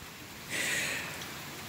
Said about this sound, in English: it's raining here.